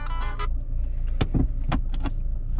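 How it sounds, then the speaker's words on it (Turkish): Handbrake released inside a parked car: a few sharp mechanical clicks and a ratcheting clunk close by, over a steady low idle hum, with no talking. "Şu el freni de indireyim ben."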